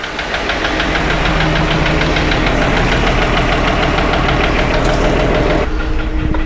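A 1962 AMC Rambler engine runs close by in a loud, steady idle with a rough, knocking mechanical clatter that shifts slightly in tone near the end.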